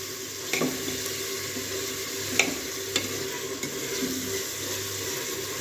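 Tomato and onion masala for aloo matar frying in a pan, giving a continuous low sizzle broken by several spoon knocks and scrapes against the pan.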